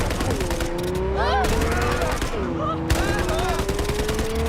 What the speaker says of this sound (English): Look at these machine guns.